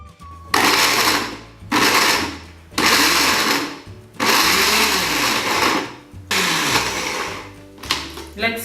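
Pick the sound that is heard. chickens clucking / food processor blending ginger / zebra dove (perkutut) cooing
food processor blending ginger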